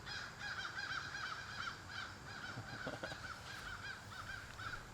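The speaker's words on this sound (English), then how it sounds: "Some murder of crows." Several crows caw over and over in an outdoor garden, their harsh calls steady and overlapping at middle distance, with a brief thump or rustle partway through.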